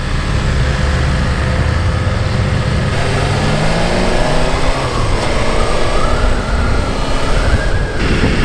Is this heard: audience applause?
no